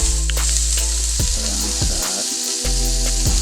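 A mushroom bun patty sizzles in hot oil under a loud, steady fizz, with a deep humming drone running underneath and a few soft knocks as it is gently flipped.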